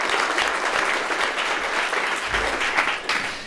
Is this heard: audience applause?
yes